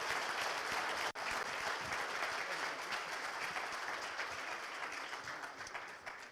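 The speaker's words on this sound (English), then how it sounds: "Please, some applause for CZ." Audience applause at a Binance meetup in Dubai, a dense, steady wash of clapping that carries on for several seconds with one brief dip near the start.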